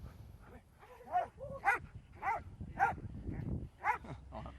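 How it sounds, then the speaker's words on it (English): A police dog barks repeatedly and close while it subdues a suspect, with several loud yips and whimpers in an uneven rhythm and some human sounds mixed in. "Suspect, stop fighting my dog!"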